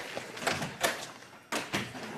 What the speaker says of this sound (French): Anaïs, pourrais-tu me claquer la porte, s'il te plaît?